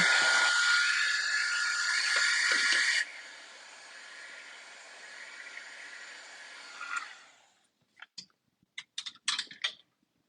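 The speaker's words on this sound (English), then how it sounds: "We could just give it a little bit of shot with the heat gun." A heat gun blows a steady, loud hiss over a greyboard craft tag coated in white gesso, running for about three seconds before dropping to a softer whir, then cutting off and leaving a few scattered clicks and taps.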